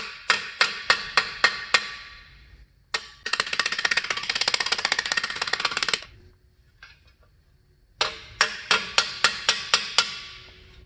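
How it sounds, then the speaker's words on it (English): A hammer's flat side strikes aluminum sheet armor: sharp metallic taps in quick, regular series, then a rapid run of dense hammering, a pause, and another series of ringing strikes. "I'm going to go ahead and use the flat side of this hammer too."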